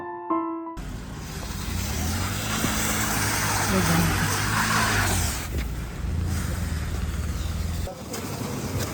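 A car climbing uphill on a snowy mountain road near Dalhousie in Himachal, its engine and tyres giving a steady close rumble, with a faint tonal whine rising midway and people talking over it.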